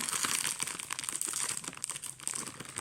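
A gift box being unwrapped at close range, with packaging crinkling and rustling continuously for about three seconds, bright and steady with small crackly peaks and no talking.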